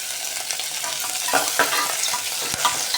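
Peas being sautéed in a pan for masale bhat, stirred now and then: steady close frying hiss with a few soft scraping and tapping strokes of the spoon, no voices.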